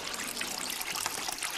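Warm and cold water pours into a tub in a steady, close, continuous splashing trickle, with no voices.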